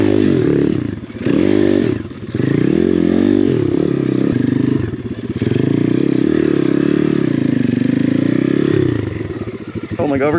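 An Apollo RFZ Amazon dirt bike claws up slippery bedrock on a hill climb, its engine revving loud and close with constant surges and brief dips as the throttle is blipped.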